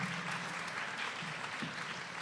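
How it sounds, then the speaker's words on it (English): An audience at a European research conference claps for a speaker being introduced, a short, steady burst of moderately distant applause with no voices over it. "Applause for Laura."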